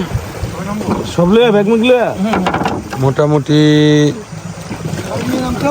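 A boat travels on a river in the hill country around Alikadam, Bandarban; its steady motor-and-water rumble runs continuously beneath close conversation from people aboard.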